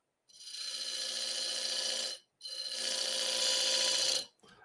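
Wooden chuck jaw plates being turned on a wood lathe with a hand tool, two long bursts of rasping, scraping cut separated by a brief pause, loud and close with no voices.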